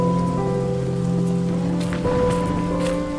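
Steady rain falls on crops in an animated farm scene, a continuous close patter of drops with a faint sustained tone beneath, with no voices.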